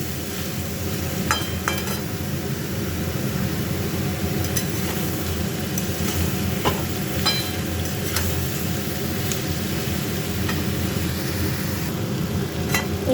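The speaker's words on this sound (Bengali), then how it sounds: "এঁচড়টা ভেজে নেবো" Jackfruit fries in a pan with a constant low sizzle and crackle, with scattered light clicks and scrapes throughout, close and steady, with no talking.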